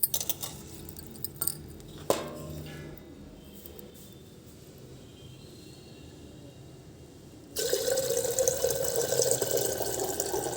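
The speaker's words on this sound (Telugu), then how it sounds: "మంచిగా కడిగేసుకుంటున్నాను 1-2 సార్లు." Split lentils being rinsed in water, with scattered clinks and sloshing early on, then a steady rush of running tap water filling the vessel for the last few seconds, close and without talk.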